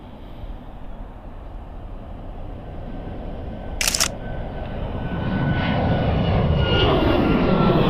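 An airplane flies overhead with a broad, steady engine rumble that swells louder toward the end, and a single sharp camera shutter click sounds partway through.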